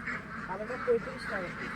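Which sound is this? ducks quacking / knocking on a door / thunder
ducks quacking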